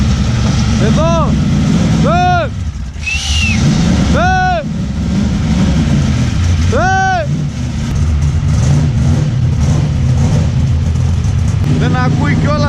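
A NASCAR V8 race car engine rumbles loudly at idle and is blipped in about five sharp revs, spaced a few seconds apart. Each rev rises and falls quickly over the steady deep throb.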